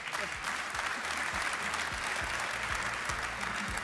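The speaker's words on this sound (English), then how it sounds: "He deserves another round of applause for that." A round of applause fills a EuroLeague basketball awards ceremony hall, dense steady clapping from the audience at moderate loudness with a faint voice underneath.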